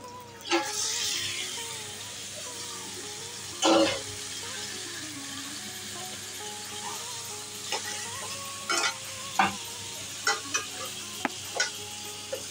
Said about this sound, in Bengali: মাংসটা দিয়ে ভালো করে নাড়িয়ে নিচ্ছি।